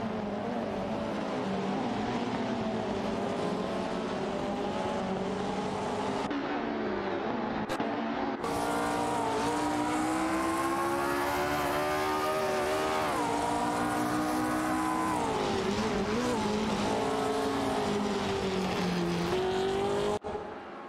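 Simulated race cars battling in a video game, a Techno Pass 68 against Matron MS7 cars, their engines howling continuously and rising and falling in pitch through gear changes, loud and close with overlapping motors throughout.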